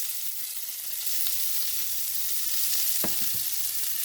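Sliced onion and green chillies frying in oil in a pan for egg masala, a continuous hissing sizzle with a few soft stirring clinks partway through, no voices.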